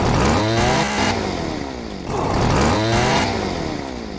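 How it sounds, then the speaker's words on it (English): Chainsaw in a video game, a loud revving engine that rises and falls in pitch in two long surges, close and filling the clip, with no talking. "Gotta preserve my chainsaw"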